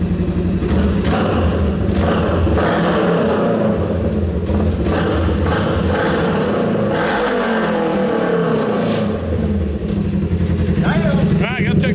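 An RS1 race car build idles loudly and steadily, its engine rumble continuous and close, with a loose, unbolted roof rattling throughout; a voice talks over it near the end.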